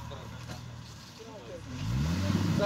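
A Jeep Grand Cherokee engine revs on an off-road course as its wheels spin, the motor rumbling steadily beneath people talking and then swelling louder near the end.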